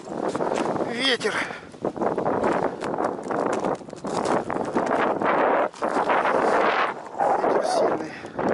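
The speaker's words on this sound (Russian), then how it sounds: "Ветер сильный." Strong winter wind buffets the microphone in continuous loud gusts, with brief lulls and rustling underneath, while ice fishing for zander.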